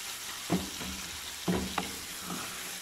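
Mutton mince frying in a pan for a capsicum keema dish, a steady broadband sizzle with a few louder scraping stirs near the start and middle, close and alone without talk.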